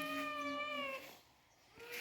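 A cat gives a single drawn-out meow, clear and tonal for about a second before trailing off, followed by a quiet pause and a soft rustle.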